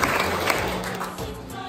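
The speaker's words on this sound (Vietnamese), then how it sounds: "Xin một tràng pháo tay để cảm ơn cộng đoàn." A Vietnamese church congregation bursts into a dense, steady wash of applause at an Easter celebration. The clapping fills the room and slowly tapers, with no voices over it.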